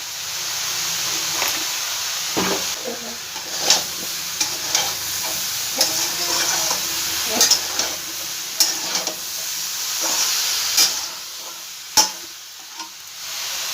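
Spices and mixed vegetables fry in oil in a pan for a Bengali vegetarian curry, a steady close sizzle broken by irregular scraping clicks and knocks as a spoon stirs them.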